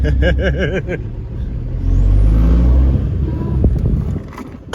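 A Seat Ibiza drives off with a loud, steady engine note that swells and holds for a few seconds, then eases away near the end.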